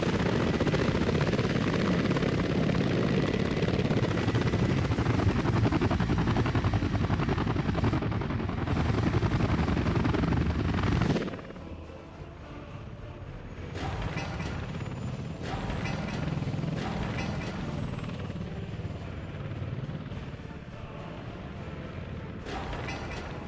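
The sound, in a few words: Sky Crane helicopter rotor in a video game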